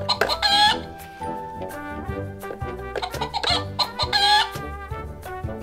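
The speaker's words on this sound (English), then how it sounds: "Which farm animal makes that sound? It's a hen." A hen clucks repeatedly on a farm, close and clear, with rhythmic chattering clucks and a few louder squawking calls standing out.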